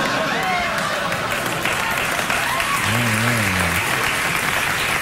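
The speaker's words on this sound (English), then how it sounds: "I'm glad somebody's clapping." Studio audience applause at a comedy talk show, a steady dense wash of clapping lasting throughout, with a voice briefly rising over it midway.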